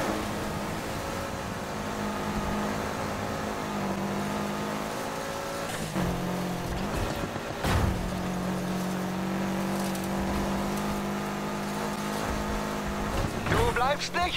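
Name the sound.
cars racing in a circuit race, Need for Speed Heat video game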